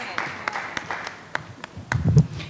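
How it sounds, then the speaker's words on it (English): Audience applause at a public discussion on traffic stops, profiling and policing, starting as scattered individual claps and building into a fuller round near the end. "Let's give it a round of applause for Talia and the whole CPOC team doing the work behind"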